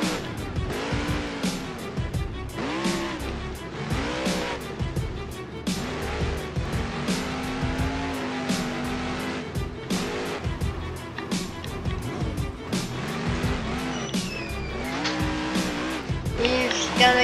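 A monster truck in BeamNG Drive revs its engine through a wheelie, with repeated surging engine bursts and tire squeals that stay loud and steady throughout.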